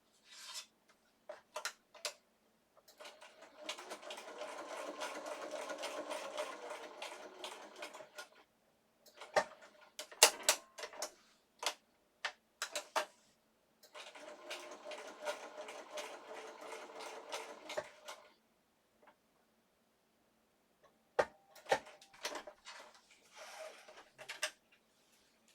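A sewing machine stitching an artist trading card runs in several bursts of rapid rhythmic clatter, separated by pauses and scattered clicks, close and fairly quiet.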